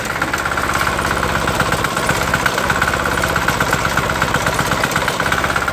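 A diesel-powered David Bradley walk-behind snow thrower, its auger turning constantly, idles steadily with a close, even mechanical chug and rattle that never lets up.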